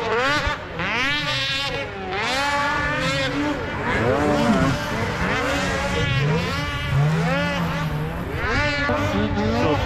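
A 2023 Ski-Doo MXZ 600 RS snocross race sled engine during testing revs up and down repeatedly, its pitch sweeping in loud, close rising and falling wails.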